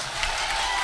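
A college audience applauds in a brief, dense burst of clapping that holds steady for under a second.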